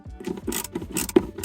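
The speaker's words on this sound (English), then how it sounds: "Then we got 10mm bolts that we need to take out." A hand ratchet clicks rapidly in short rhythmic bursts while loosening 10mm bolts inside a Toyota Tacoma console, close and crisp with a slight metallic chatter, no voices.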